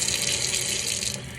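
A tap runs lukewarm water into a sink for handwashing in a health care setting, a steady, close, loud hiss of flowing water with no pauses.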